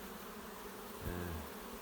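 Bees buzz steadily at a two-box hive in a dense, continuous hum, with one louder insect drone briefly passing close.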